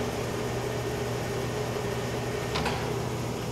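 A Clausing Colchester gap bed engine lathe, built in England in 2001, spinning up through its speeds, a steady whirring machine hum with one brief click partway through.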